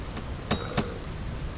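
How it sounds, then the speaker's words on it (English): Heavy rain falls in a steady, dense hiss during a Vintage Story survival game, with two brief louder thumps standing out over the constant downpour and no speech. "Man, it is really raining too."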